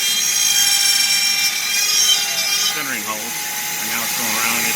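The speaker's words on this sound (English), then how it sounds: "we're running there to cut out the handholds and the slots" A CNC router steadily cuts handholds and slots into a kayak hatch, a continuous high-pitched whine with shifting tones midway, close and loud.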